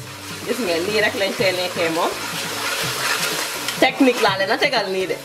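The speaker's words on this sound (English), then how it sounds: "So we keep stir frying it." Tomato being stir-fried in oil for benachin jollof rice, a continuous sizzle with scraping stirring strokes, close and fairly loud, while someone talks over it.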